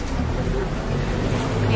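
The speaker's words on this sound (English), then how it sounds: "I decided to get a water taxi back to the other side of the bridge" A water taxi boat ride in Rotterdam gives a loud, steady wash of engine rumble, rushing water and wind, with no clear break in the noise.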